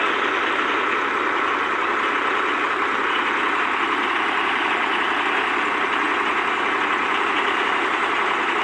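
A tractor engine runs steadily during wheat threshing on a farm, a loud continuous mechanical drone with no breaks or pauses, close by and with no voices.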